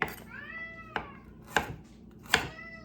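A cat meows several times in a home kitchen during preparation of a Mexican-style dip, four distinct close cries spaced about half a second apart, each with a sharp onset.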